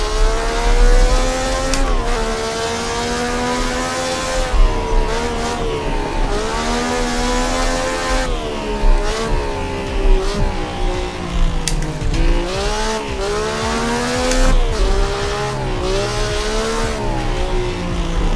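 Classic vintage GT sports car engine revving hard on a street track around Napoli, loud and close, its pitch rising and falling steadily through gear changes and throttle lifts, with occasional sharp spikes of acceleration.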